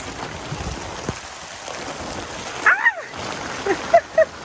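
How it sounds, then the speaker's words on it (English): Rain falls on a boatyard where a Hallberg Rassy sailboat is having its mast removed, a steady soft patter broken by a few sharper splashes and drips near the end. "And just like that, it's raining."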